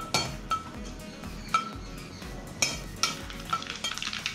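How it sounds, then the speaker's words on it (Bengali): Dry red chillies, bay leaf and mustard seeds sizzle in about four spoons of white oil while a spoon stirs and clinks against the pan in irregular strokes, close and without talk. "প্রথমে আমি 4 চামচ মতো সাদা তেল দিলাম, শুকনো লঙ্কা ফোড়ন দিলাম, তেজপাতাও দিয়ে দিলাম, সর্ষেটাও দিয়ে দিলাম।"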